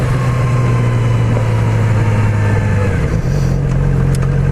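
A 2016 Yamaha R6 sport bike engine drones loud and close while riding, a steady low hum with wind rush that dips briefly near the end as the revs change.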